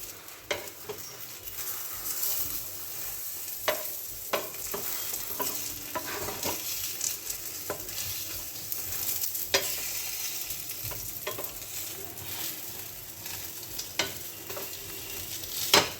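A peas omelet sizzles steadily in a frying pan while being folded over from one side, with a constant frying hiss broken by light scraping and tapping of the spatula, no talk.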